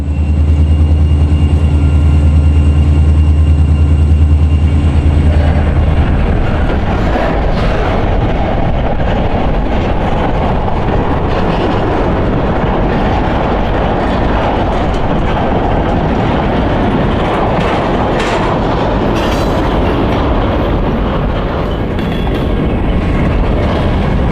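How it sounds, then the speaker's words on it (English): Two EMD diesel locomotives idle with a deep throbbing hum, then a heavy manifest freight train rumbles continuously past, leaving Saginaw Yard slowly, its wheels rolling steadily along the rails. "The two EMD workhorses would power the train south, with quite the heavy manifest in tow."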